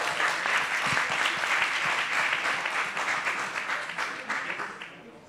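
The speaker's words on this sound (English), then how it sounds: "Please give a round welcome, warm round welcome of applause to Jean-Louis." A conference audience at a Montreal tech event claps to welcome a speaker, with dense, even applause that holds for several seconds and then gradually tapers off.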